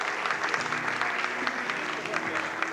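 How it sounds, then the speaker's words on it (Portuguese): Audience applause at a 1993 Pernambuco bodybuilding championship, a dense steady wash of clapping throughout with a faint murmur of voices underneath. "Uma salva de palmas para Neto"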